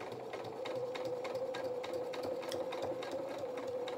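A sewing machine runs steadily, stitching fabric on a stuffed otter toy's head with a steady whirring hum and rapid needle ticks, close and alone.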